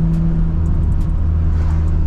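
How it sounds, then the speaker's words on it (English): A Nissan R32 GT-R downshifts while driving, its engine holding a loud, close, steady drone with a brief shift in pitch partway through. "Ooh, I know y'all heard that downshift."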